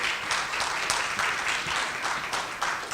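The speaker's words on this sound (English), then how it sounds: "Let's give our honorees one more round of applause" An audience applauds honorees at a community event, with steady, dense clapping from many hands continuing throughout.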